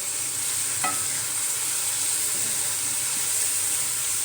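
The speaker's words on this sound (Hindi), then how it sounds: "अब मैं इसमें ये प्याज डाल दूँगी, ठीक है, और इसे मैं फ्राई करूँगी पिंक पिंक" Onions fry in hot ghee with a steady, dense sizzle throughout, close and even, with one brief clink near the start.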